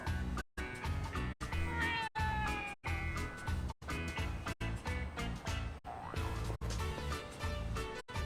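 A cat meows in the video game Yakuza: Like a Dragon, with short tonal cries sitting over loud, continuous game music that nearly covers them.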